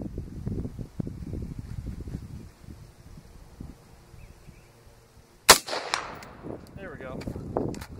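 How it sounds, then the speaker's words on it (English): A single sharp rifle shot fired at an AR500 steel target cracks loud and sudden after several seconds of quiet outdoor noise and muffled voices, followed by ringing and people talking. "Shoot the gun."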